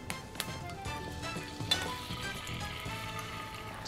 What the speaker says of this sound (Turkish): Şimdi buradaki yumurtalı karışımdan şöyle kaşıkla ortaya böyle bir hat yapacağız.